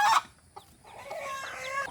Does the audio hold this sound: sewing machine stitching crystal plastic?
no